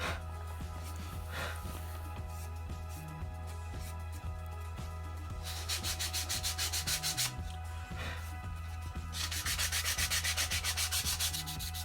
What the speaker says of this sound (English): around the edges I get a little more heavy with the sanding, and then I go into the middle as well.